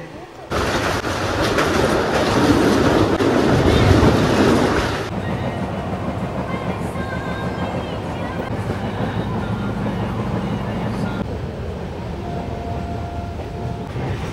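Steady rumble of a passenger train on rails from Kolkata toward the hills, loud for the first few seconds then settling into a lower continuous roar with faint voices in the background.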